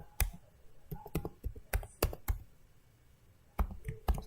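Computer keyboard keys clicked in short, uneven bursts while a command is typed, crisp close taps separated by brief pauses, with no talking.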